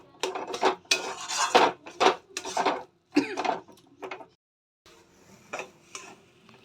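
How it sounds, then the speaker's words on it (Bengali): A metal spoon stirs and scrapes spice masala paste being fried in a pot for a chickpea curry, a close, irregular run of clattering scrapes and knocks that pauses briefly and resumes more softly; no talking is heard. "এবার মশলাটা আমি ভালো করে কষিয়ে নেব।"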